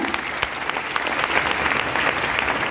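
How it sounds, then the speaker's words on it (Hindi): Loud, dense applause from an audience at a gathering, honouring a teacher. Steady clapping runs throughout with no voices over it. "गुरु के रूप में मानते अविनाश सर के लिए जोरदार ताली"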